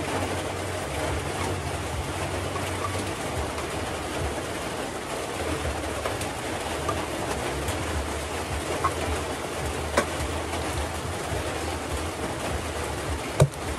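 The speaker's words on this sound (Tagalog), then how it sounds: "Maulan na hapon" Steady afternoon rain pours down in an even, unbroken hiss that runs the whole time, with a low rumbling hum beneath it and no voices.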